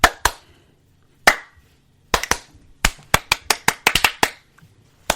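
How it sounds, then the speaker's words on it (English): Hands clapping in short sharp bursts at close range, a few separate claps followed by a quicker irregular cluster of about a dozen claps, crisp against quiet. "Clap."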